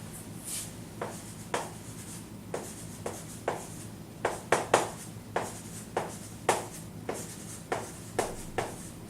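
Marker strokes on a board during an English grammar lesson, a dozen short scratchy squeaks and dabs in an irregular rhythm, close and fairly quiet over a low steady hum, with no talking.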